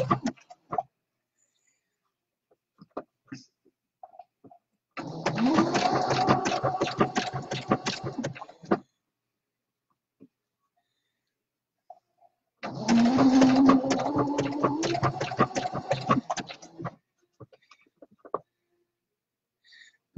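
Home sewing machine stitching a jockstrap pouch seam with a red center strip, about 3/8 inch allowance along the presser foot edge; two separate bursts of fast, steady mechanical needle chatter, each roughly four seconds long, with quiet pauses between.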